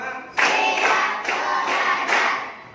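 A group of teachers in a training-session icebreaker counting clap game produces about five loud rhythmic bursts of clapping, roughly evenly spaced, with voices blending in on each beat.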